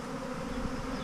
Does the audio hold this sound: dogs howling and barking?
no